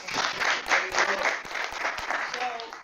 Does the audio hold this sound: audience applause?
yes